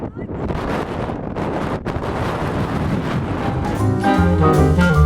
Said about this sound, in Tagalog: Sarap ng simoy ng hangin dito.